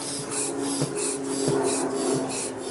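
A hand pump inflates a bicycle inner tube with steady repeated strokes, each giving a breathy rasping whoosh at roughly even intervals, close up and with no voices.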